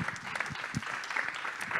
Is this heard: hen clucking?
no